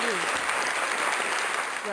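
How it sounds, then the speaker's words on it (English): Studio audience applause on a local morning radio show, a steady dense wash of clapping throughout, with a faint voice or tone line near the start and end. "Huge round of applause for you."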